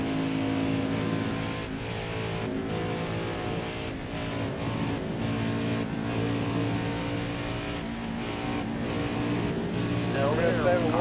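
A race car engine drones steadily in the video game NASCAR Heat 5, a constant harmonic hum from a pack of cars on track, with a voice talking over it throughout.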